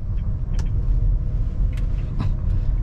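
Manual car pulling away as the clutch is released with a little gas, a steady low engine rumble with faint interior clicks and rustles, no talk.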